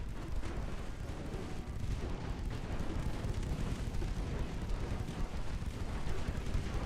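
Heavy warship main guns firing in the naval combat game Ultimate Admiral Dreadnoughts, heard as a continuous deep rumbling roar of booms that runs steadily at moderate loudness without pause.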